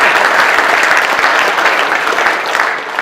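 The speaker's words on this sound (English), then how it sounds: "That is the biggest round of applause." Crowd at a Brexit rally in Plymouth breaks into loud, close applause, a dense burst of clapping that stays strong and fades slightly toward the end.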